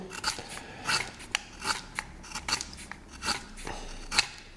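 An HB pencil, a slightly harder grade with a lead about 2 mm thick, is sharpened by hand, producing faint, close scraping and crunching strokes in a loose, repeated rhythm of about one per second, with no talking.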